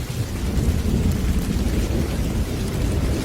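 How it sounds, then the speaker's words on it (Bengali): Heavy rain pours steadily with deep, rumbling thunder rolling underneath, a dense, continuous roar with no voices. "মুষলধারে বৃষ্টি শুরু হলো।"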